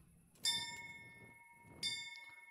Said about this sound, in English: that is the saddest bell